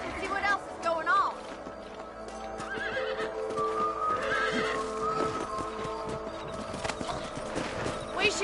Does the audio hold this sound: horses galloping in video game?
yes